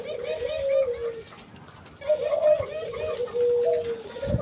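Turtle doves or perkutut cooing in a small cage, with repeated soft, close coos in two phrases separated by a brief pause, and a voice talking faintly beneath them.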